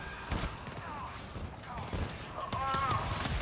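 An automated turret in a video game fires repeated bursts at enemies, mid-loud shots scattered among game noise, with a person talking over the action.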